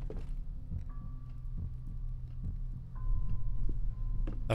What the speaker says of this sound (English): A fucking heartbeat noise stresses me out